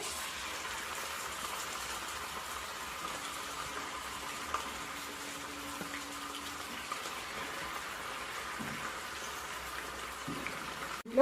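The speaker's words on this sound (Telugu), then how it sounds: "ఇప్పుడు ఈ నూనెలో చికెన్ వేసుకుందాం" Chicken pieces frying in hot oil for a gongura chicken pickle, giving a steady, close sizzling hiss that runs unbroken through the whole stretch with no talking.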